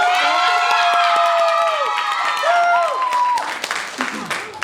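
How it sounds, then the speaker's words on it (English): Sustained applause and cheering from a school assembly audience at an AAPI heritage celebration, a dense wash of clapping with whoops and shouts that tapers off near the end while voices call out over it. "We need another round of applause for everyone."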